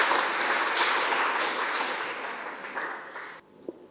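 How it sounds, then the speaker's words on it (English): An audience at a school function claps to welcome a speaker to the stage, a full burst of applause that fades and stops abruptly, leaving a couple of faint knocks. "Please give a huge round of applause to welcome Ranjana ma'am to the stage."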